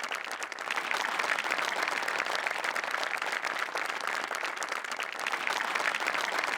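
Studio audience at a comedy show claps loudly and steadily in sustained applause throughout, with a brief dip near the start.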